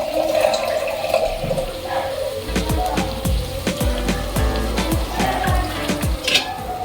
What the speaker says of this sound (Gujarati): થોડું પાણી નાખવાનું